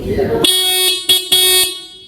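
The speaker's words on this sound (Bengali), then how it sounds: "এখানে হর্ন হর্নটা একটু শুনিয়ে দিচ্ছি" A Yamaha MT15 155 cc motorcycle horn sounds close and loud: one long honk, a short tap, then another longer blast. A brief voice comes just before it.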